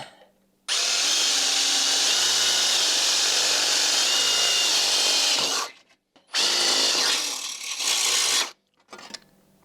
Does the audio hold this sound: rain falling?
no